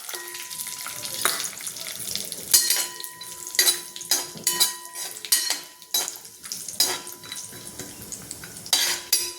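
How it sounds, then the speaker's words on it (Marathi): Cashews and almonds frying in hot ghee, crackling sizzle broken by repeated scraping and clinking of a metal spoon against the pan in an irregular rhythm, close up and with no talking. "तूप तापले आपल्याला थोडे काजू आणि बदाम थोडे लालसर करून घेऊ आपण याच्यात"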